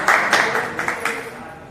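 Audience at a religious book fair applauding, a burst of clapping loud and close at first, then thinning and fading over the last moments.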